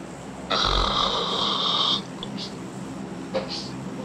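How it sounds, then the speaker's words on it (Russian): A propeller airplane drones through an online battle-royale shooter game match, a steady loud buzzing engine tone holding for about a second and a half before cutting off, followed by a couple of faint short blips. "Звук самолета, блин, послушай."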